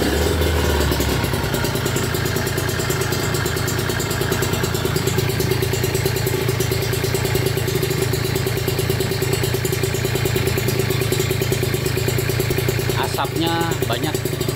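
A Kawasaki Ninja RR two-stroke motorcycle warming up after a week unused, idling steadily and loudly up close with a constant buzzing rattle throughout, no clear revving.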